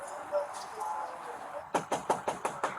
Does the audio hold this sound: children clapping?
no